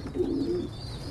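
Young pigeons coo softly in a loft, a brief low throaty coo close by against a faint airy background.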